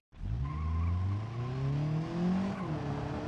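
A Tesla in BeamNG.drive roars off with a sustained engine whine rising in pitch while tires squeal and skid continuously, loud and close for the whole stretch.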